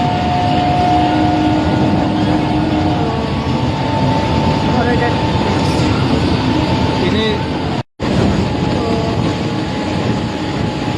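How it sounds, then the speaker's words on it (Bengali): Loud, continuous rumble and rattle of a long-distance train heard from inside a carriage, with a steady hum and a brief dropout near the end. "এখনো ট্রেনেই আছি আমরা"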